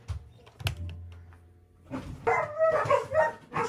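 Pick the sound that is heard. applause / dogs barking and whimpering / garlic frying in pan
dogs barking and whimpering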